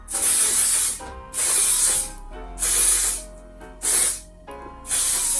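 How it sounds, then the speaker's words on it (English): Five bursts of aerosol hairspray onto an old wig, each a loud, close hiss lasting about a second, separated by short pauses. "So now I'm gonna go in with this spray."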